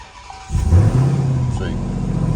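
A Ram TRX pickup truck engine cranks and catches after a brief quiet moment, then settles into a low, steady idle rumble close by.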